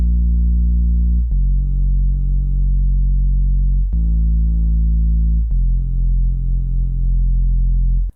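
A Scaler 2 auto chord progression plays through effects: sustained, smooth synth chords that change about every second and a half, with bright attacks at each change and a brief cutoff at the end.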